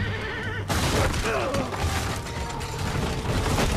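A horse neighs over mechanical clanking and ratcheting Assassin's Creed Revelations game noise, with a dense, continuous background throughout.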